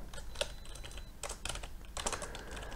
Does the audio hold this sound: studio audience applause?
no